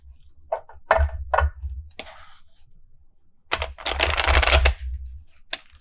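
Tarot cards being shuffled by hand, with a few short riffling bursts early on and a longer, louder dense shuffle in the middle before a final soft tap.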